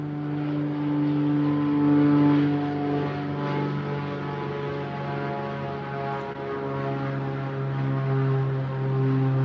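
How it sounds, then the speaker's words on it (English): A propeller airplane drones steadily overhead, a loud, continuous tonal hum with a slight swell that holds for the whole stretch without talk. "We have a plane overhead."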